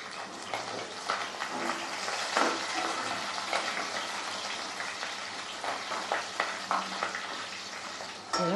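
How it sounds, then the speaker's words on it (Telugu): Steady sizzling of tempering spices and crushed garlic frying in hot oil for chicken fry, with crackles and occasional stirring scrapes throughout, fairly faint and continuous. "తాలింపు సరుకులు అన్నీ వేగిపోయినాయి కదా"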